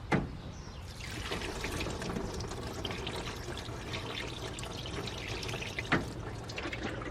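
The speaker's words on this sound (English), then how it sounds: "I have to add water." Water poured into a Toyota truck's cooling system during a coolant refill, giving a steady, close splashing and gurgling stream that runs throughout, with a couple of brief knocks.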